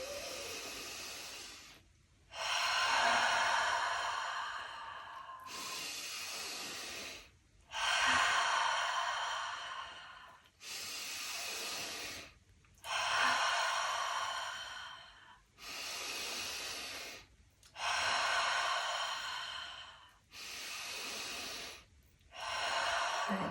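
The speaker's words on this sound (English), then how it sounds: "we're going to start with the first round of 10 breaths, in through the nose and out through the mouth" Breathwork session of slow, deep breaths drawn in through the nose and pushed out through the mouth, about five full cycles of long airy inhales and exhales separated by short pauses, close and clear with no talking.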